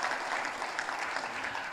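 A congregation at a Korean church service applauds to congratulate a member's daughter on her upcoming wedding. The clapping is steady and fairly close and continues for nearly two seconds.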